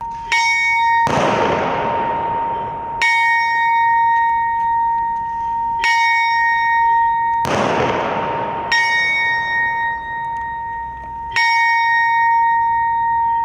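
A memorial bell rings out in Prykarpattia, Ukraine, during a ceremony honouring the country's fallen defenders: loud, resonant strikes repeat every few seconds, each leaving a long humming decay, with no talk over them.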